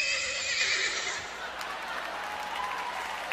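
At a live sertanejo concert, a voice imitates a horse's neigh, a shrill whinny at the start. It sits over a steady wash of crowd cheering and applause that runs throughout.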